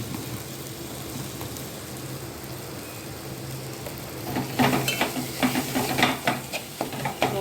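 Masala sizzles in a pan while being stirred for a Marathi patwadi dish, a steady frying hiss joined midway by louder repeated scraping strokes of the spoon.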